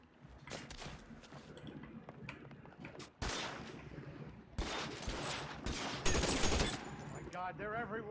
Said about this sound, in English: Yeah, Tommy gun.